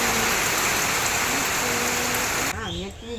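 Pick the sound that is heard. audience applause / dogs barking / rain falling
rain falling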